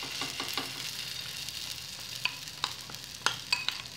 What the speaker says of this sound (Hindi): फिर से तवे में तेल डालकर और सारे भबड़े तैयार कर लेंगे उलट पुलट कर